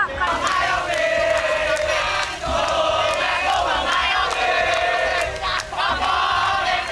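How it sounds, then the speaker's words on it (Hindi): A crowd of thousands storming the parliament in Jakarta, Indonesia roars with sustained shouting and chanting, a dense wall of voices with sharp cries rising throughout. "हजारों की भीड़ ने संसद के बाहर जबरदस्त बवाल काटा।"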